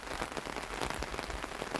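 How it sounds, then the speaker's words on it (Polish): Heavy rain pours down in a garden, a dense, steady patter of drops striking nearby surfaces, close and continuous with no voices. "zobaczcie, deszcz pada mocno"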